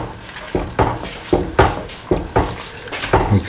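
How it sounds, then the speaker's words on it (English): Stirring ivy gourd, green peas and coconut milk stew in a pot: six evenly spaced scraping, clattering strokes of a spoon against the pot, close and moderately loud, with no talking. "Mix thoroughly"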